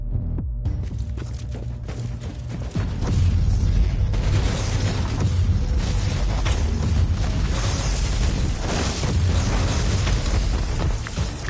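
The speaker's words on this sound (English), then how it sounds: "Here I am using a flamer" A flamer weapon fires in Warhammer 40k Inquisitor Martyr, a sustained roaring, whooshing burn with low booming rumble that thickens partway through and holds loud throughout.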